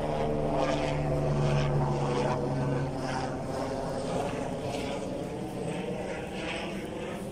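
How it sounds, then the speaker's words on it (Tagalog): A helicopter drones overhead over a Bur Dubai villa neighbourhood, a steady engine and rotor roar holding for several seconds and slowly fading, with no talk. "Ay, helicopter."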